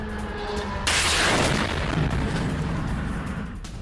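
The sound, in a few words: drone explosion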